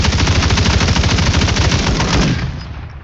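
Rapid automatic gunfire from the video game Call of Duty: Modern Warfare 3, a loud continuous burst of close shots that cuts off and leaves a short decaying tail.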